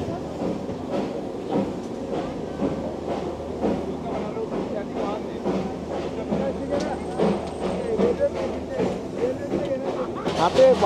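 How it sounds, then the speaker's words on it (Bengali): The Darjeeling toy train, a coal-fired steam service, clatters steadily along its rails with a rapid rhythmic clickety-clack and a loud, continuous rumble from nearby. "প্রচণ্ড ঝাঁকুনি দিয়ে ছেড়ে দিল আমাদের ট্রেন।"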